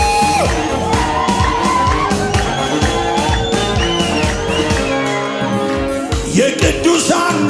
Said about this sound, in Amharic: ይሰማ ይሰማ ይሰማ ይሰማ እልልታ እልልታ